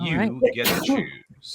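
A single abrupt sneeze bursts out midway through a livestream conversation, close and loud, surrounded by people talking.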